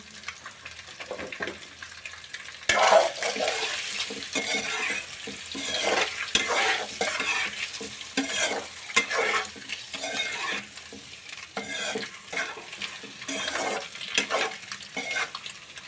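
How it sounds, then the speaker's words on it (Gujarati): Boiled eggs frying in a pan with turmeric, with a gentle sizzle and repeated scraping stirs of a spoon against the pan, nearby and moderately loud. "કેમ કે આપણે આને ફ્રાય કરવાના છે એટલે. અને થોડીક ગમતી આપણે હળદર એડ કરી દઈશું."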